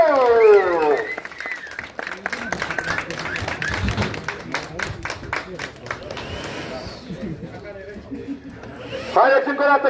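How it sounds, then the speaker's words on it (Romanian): A crowd claps and cheers in a sustained burst for the SR1 Cup race podium in Romania, with a voice speaking over the start and again at the end. "Haideți încă o dată cu aplauze pentru podiumul de la SR1 Cup, Luca Sabo, Bogdan Bondor și Vlad Raducanu!"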